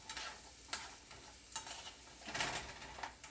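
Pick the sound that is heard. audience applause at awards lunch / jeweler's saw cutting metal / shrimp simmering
shrimp simmering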